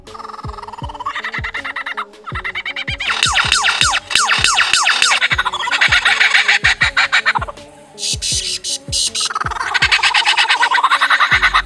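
An Australian lyrebird mimicking gunshots and firecrackers: a loud, close, rapid run of sharp cracks and pops woven with warbling, sweeping whistles, continuous for the whole stretch with no talking.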